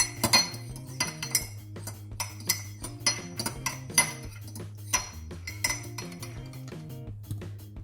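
A spoon mixes mug chocolate cake batter, clinking and knocking repeatedly against the mug in a brisk, uneven rhythm, close and clear with no talking.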